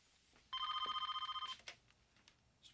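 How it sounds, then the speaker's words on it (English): A telephone rings in a TV episode, a single electronic trilling ring lasting about a second with a rapid pulsing warble, fairly faint and followed by quiet background shuffling. "And this, I take it, Peter, is the infamous phone call that Tom's been waiting for."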